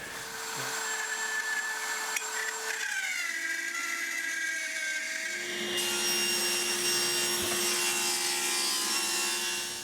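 Maple wood being cut with a power tool: a steady whining motor with shifting pitch that rises to a brighter, harsher cutting noise partway through, close and continuous, with no talking.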